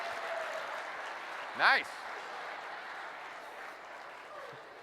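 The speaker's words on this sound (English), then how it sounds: "That round of applause is important" An audience claps in a steady, even wash of applause filling the whole stretch, with a man's brief remark cutting through in the middle.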